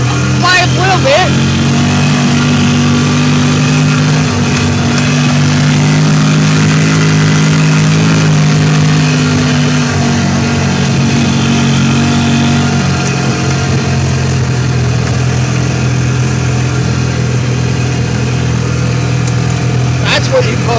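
Ford Ranger engine running on a test run with a new fuel pump, a loud, steady, close engine drone that holds with slight rises in revs, with voices heard faintly.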